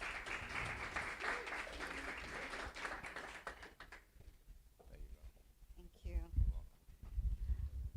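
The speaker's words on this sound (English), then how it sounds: "Just give her a hand of applause," An audience claps at a township tech hackathon pitch event, applause that dies out after about four seconds, followed by quieter room sounds and someone speaking close to the microphone.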